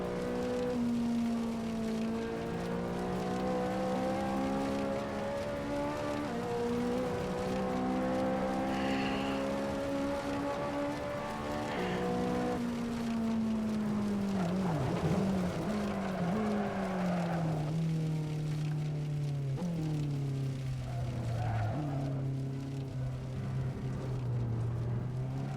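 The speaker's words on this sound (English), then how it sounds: "Now let's hear that engine." A Ferrari engine in the Goodwood Festival of Speed VR game drones loudly and steadily throughout, its pitch climbing and dropping through gear changes, with a brief tire squeal partway through and no talking.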